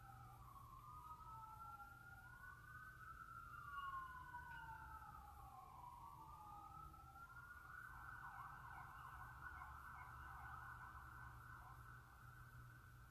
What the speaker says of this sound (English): Damn, I hear sirens.